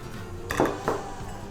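Almond powder is stirred into sifted flour in a mixing bowl for an eggless cake: a soft, brief sequence of two clinks from a utensil against the bowl, close and fairly quiet.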